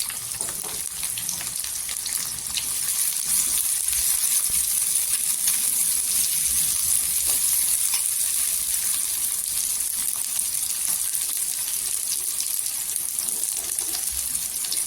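Onion and curry leaves fry in oil for brinjal, a constant close, bright hiss of sizzling with faint scattered crackles throughout.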